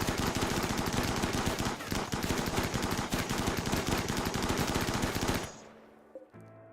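Defensive turrets in Rimworld fire in a rapid, continuous automatic burst for about five seconds, dense and loud, before cutting off abruptly into quieter game sounds.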